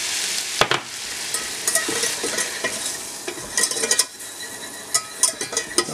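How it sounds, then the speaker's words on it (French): Flour being stirred into melted butter in a pan for a lemon sauce, a steady soft sizzle with scraping spoon strokes and occasional light clinks against the pan. "Une fois que le beurre est fondu, je mets ma farine."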